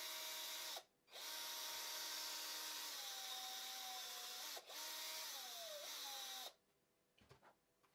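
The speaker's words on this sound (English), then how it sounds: "I'm just going to drill a few holes here to accommodate the wire" A power drill bores holes into a softbait mold in three bursts, each a loud steady whine that shifts pitch as the bit bites, separated by short pauses and followed by faint handling clatter.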